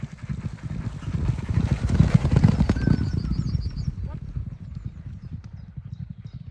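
A racehorse's hooves clip-clop in a steady rhythm on the ground, close and clear, with birds and faint engine noise in the background and a person talking over it.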